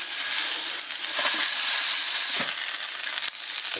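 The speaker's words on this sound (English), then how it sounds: "what I want to hear every time you put meat in a fry pan is you want to hear a sizzle" A hamburger patty sizzles loudly in a frying pan, a dense, steady hiss close up with a few soft scraping and popping accents and no voices.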